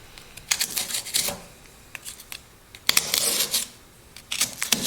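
A Knafs Lander knife tip makes small, precise cuts in wood, heard as close, crisp scraping and shaving bursts in uneven clusters separated by brief pauses.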